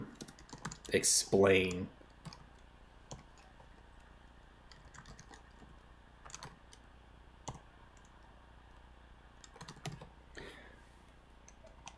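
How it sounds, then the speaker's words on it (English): Keystrokes clatter on a computer keyboard in scattered, uneven bursts, with a louder cluster of clicks early on and lighter taps after, close and fairly quiet, while a voice speaks briefly. "I'm going to go ahead and get this typed in"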